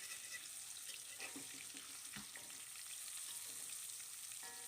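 Tofu frying in a pan of oil for a home-style Indonesian meal, a steady dense sizzle with a few soft clinks and stirring scrapes, no voices.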